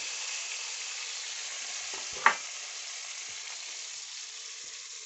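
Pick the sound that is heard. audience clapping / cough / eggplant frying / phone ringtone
eggplant frying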